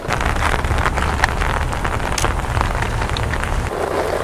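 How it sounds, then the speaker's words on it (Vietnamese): Heavy rain pours down outdoors at a fishing spot, a loud, dense, continuous hiss and patter on a nearby umbrella, with wind buffeting the microphone. "Mưa rất là khủng khiếp"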